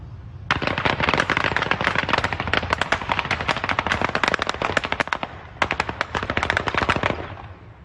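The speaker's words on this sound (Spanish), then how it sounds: "Son disparos al aire de un vehículo particular que pasó por la carretera internacional" Loud, close bursts of rapid gunfire fired into the air from a passing vehicle crackle in two long volleys separated by a brief pause, with no voices.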